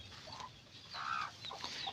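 Hens clucking and a rooster-like call nearby, short bursts with brief gaps over a quiet outdoor background, no talking.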